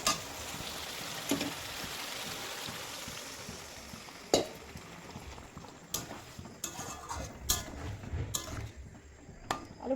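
Fried potatoes for aloo dum cook in oil with a steady, close sizzle, joined by a few sharp clinks and scrapes of a utensil against the pan.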